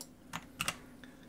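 Computer keyboard typing during a cut-and-paste into a database, a few quick key clicks in a short burst, close and moderately loud over a faint background hum.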